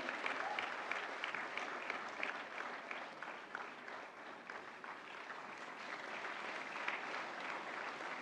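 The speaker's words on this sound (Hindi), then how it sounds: "जोरदार तालियां" Steady, dense applause fills a hall at the 69th National Film Awards ceremony as a first-time director receives the Golden Lotus award; the clapping is continuous, moderately distant and even in loudness for about eight seconds, with no speech over it.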